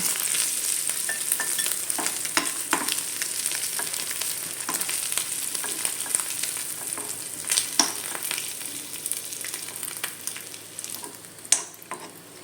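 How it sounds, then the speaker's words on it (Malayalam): Fish heads frying in hot oil give a steady, dense sizzle and crackle throughout, close and fairly loud, with occasional stirring clicks and scrapes. "ഇനി ഇതൊന്ന് നമുക്ക് പൊരിച്ചെടുക്കാം"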